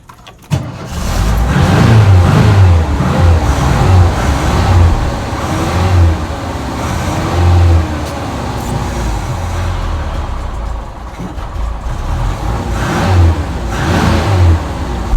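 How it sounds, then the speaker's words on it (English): A VW T25 camper van engine with a stiff throttle cable revs hard and close, running loud and fairly steady with uneven surges in pitch, and no talk over it. "The throttle cable's really stiff, so it's almost all or nothing on the revs."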